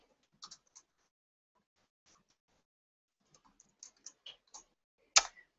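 Typing on a computer keyboard: a few quiet, scattered clicks and short bursts of keystrokes with long pauses between them, ending on one sharper, louder tap.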